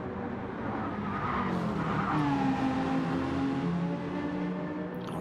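BMW GT3 race car in a racing video game at Tokyo Expressway, its engine revving and rising through the gears with tire squeal, loud and close for the whole stretch.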